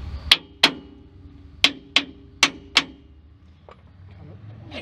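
A hammer taps on a car's lower ball joint six times, in three quick pairs of sharp, close metallic knocks with quiet between them.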